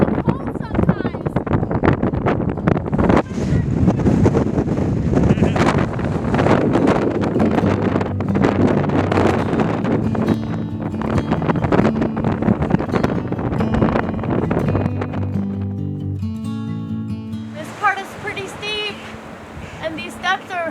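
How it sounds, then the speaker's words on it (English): Strong wind buffets the microphone on a mountain hiking trail in Torres del Paine, roaring loudly and almost without break while a person talks over it, easing toward the end. "The wind is so strong we have to dig in and just breathe and hold sometimes."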